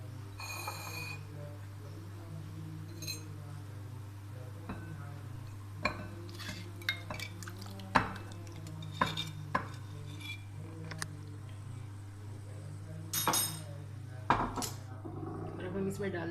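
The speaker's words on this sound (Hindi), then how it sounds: "इसको एक बाउल में हम अच्छी तरह फेंट लेते हैं।" Half a kilo of yogurt being whisked in a bowl for dahi bare, with irregular light clinks and taps of a utensil against the bowl over a steady low hum. The taps come quiet at first and grow busier toward the end.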